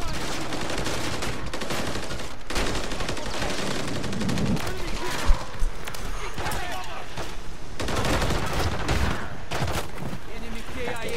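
Call of Duty MW3 gameplay gunfire: bursts of automatic rifle fire and machine-gun rattles come in rapid, dense volleys, some close and loud, with brief pauses between bursts; players talk over the action.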